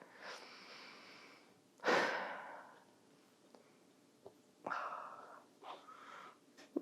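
Slow, deep breathing during a supine hips and low back yoga stretch, several close, audible inhales and exhales with a strong breath near the start and softer ones after.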